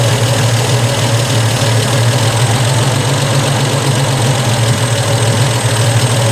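A car engine runs at a steady, loud, close idle with a low droning hum and little change in pitch; no voices.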